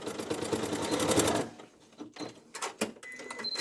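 A sewing machine runs steadily while stitching a teddy bear, then stops and gives a few short bursts of stitching, close and alone.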